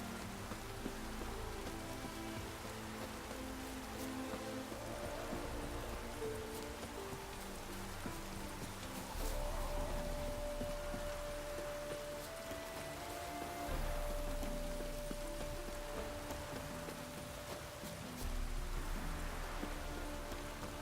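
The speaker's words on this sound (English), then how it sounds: "Rain like this would fetch a fortune in Zerrikane" Steady rain falls in The Witcher 3: Wild Hunt, a continuous patter on surfaces under a low, sustained ambient drone, quiet and even throughout.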